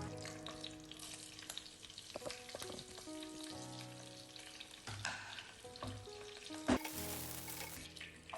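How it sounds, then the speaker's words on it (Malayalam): Onion and tomato sautéing in hot oil for a Kerala-style beef roast, giving a steady, close sizzle with stirring scrapes throughout and no talking. "ഇതെല്ലാം നമ്മൾ എണ്ണ ചൂടായിട്ട് വരുമ്പോൾ അതിലേക്ക് ഇട്ട് കൊടുത്ത് നന്നായിട്ട് വഴറ്റിയെടുക്കണം"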